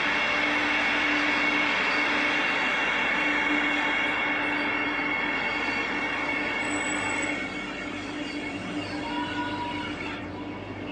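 Steady, loud rumble of a new Vande Bharat Express superfast train running between Mumbai and Solapur, heard with a constant hum and faint wheel squeal that eases slightly near the end.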